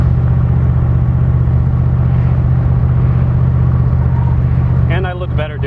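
A 480 cubic inch stroker engine in a Cobra with a five-speed gearbox, heard while driving as a loud, steady low rumble close by, with a voice briefly speaking near the end.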